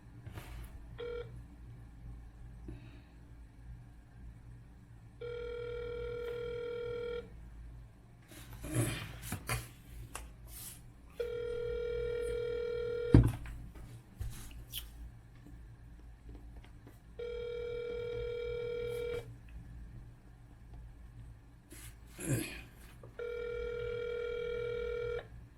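A telephone dials out, with rapid touch-tone beeps followed by a repeating ringback tone in regular long bursts, clear and alone on the line amid faint handling noise.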